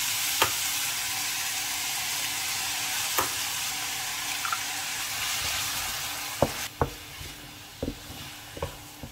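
Eggs fry with ham and mushrooms in a pan, giving a steady close sizzle with scattered sharp clicks and taps of a utensil, louder pops coming near the end.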